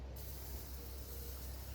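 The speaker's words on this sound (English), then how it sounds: "So probably spray a good amount of it and then kind of scrape it." A partly empty aerosol spray can sprays steadily onto a part from an Allis Chalmers tractor being restored, a continuous close hiss held for the whole stretch with no talking over it.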